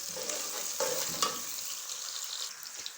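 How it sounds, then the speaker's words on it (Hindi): Onions frying in a pan for a potato and pea pulao, a steady close sizzle with occasional stirring scrapes and clinks, no voices. "प्याज को हमने ब्राउन कर लेना है"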